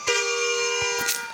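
A vehicle horn in the Bus Simulator India video game, set on the Wayanad ghat road: one sustained, bright, tonal honk held for about a second, clear and alone.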